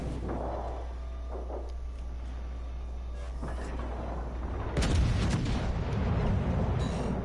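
Torpedo explosions in a naval battle game: a low rumbling hum swells into a heavy, roaring burst of noise that keeps churning to the end, with fainter thuds earlier on.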